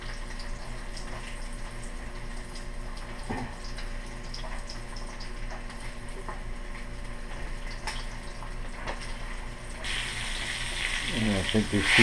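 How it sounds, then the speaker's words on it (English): Flour-coated bluegill fillets sizzle in a frying pan, a steady crackling fry that runs throughout and swells into a louder burst of spattering near the end, heard close with no talking. "And into the frying pan."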